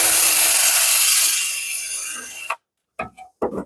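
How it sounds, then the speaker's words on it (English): A stiff brush scrubs rust off a motorcycle part in a loud, steady abrasive rasp that fades out, followed by a few short scraping strokes. "Let's also see if we can't get this brush in there"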